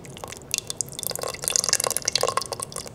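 Tomato sauce is poured from a can into a pressure cooker, giving a close, wet series of drips and splats that grows busier before trailing off, with no voices.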